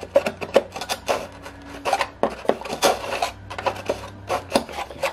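Repeated rasping strokes of a blade or file working through a wooden dihedral brace on a model aircraft wing, close and uneven, with short pauses between bursts of cutting.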